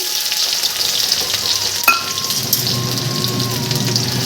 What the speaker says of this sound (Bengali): বেরেস্তাটা আগে ভেজে নিই